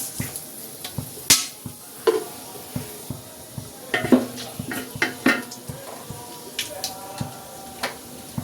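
Two bay leaves with peppercorns frying in hot oil for vegetable pulao, a light sizzle beneath repeated sharp clicks and taps of a spoon on the pan.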